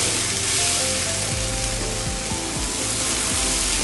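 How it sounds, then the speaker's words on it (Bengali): Onion-based masala cooks in a pan with red chili powder, coriander powder, cumin powder and salt, giving a dense, loud, continuous sizzle with occasional stirring motions underneath. "তারপরে আমি মশলাটা আবারও ভালো করে কষিয়ে নেব"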